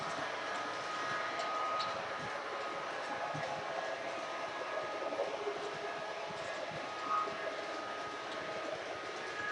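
A train engine approaches on the track. It gives off a low, steady mechanical rumble and hum that stays faint and distant throughout.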